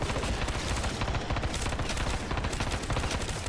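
Sustained automatic gunfire aimed at a zombie in Modern Warfare 3 Zombies, a dense, loud, continuous stream of rapid shots that fills the whole moment with no pause.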